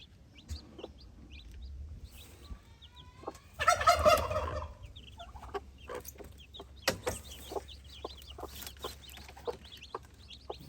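A mother hen with her chicks: a soft, close burst of clucking and chatter rises briefly, surrounded by scattered high peeps and small clicks against a quiet outdoor background.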